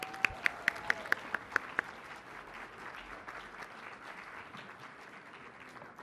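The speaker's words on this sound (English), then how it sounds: "Can we get another round of applause for our young chefs?" Audience at a government food-and-health summit applauds young chefs, opening with a few distinct sharp claps before settling into a faint, distant patter of clapping.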